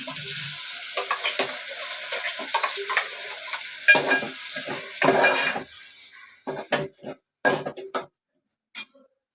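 Loud sizzling and hissing as wet ground green paste hits a hot pan, with scraping and stirring clatter; the hiss fades into separate short scrapes toward the end.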